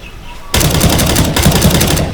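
Loud bursts of rapid automatic gunfire in the video game CS:GO, starting abruptly after a brief quiet moment and continuing in dense rattling volleys, with a faint voice underneath.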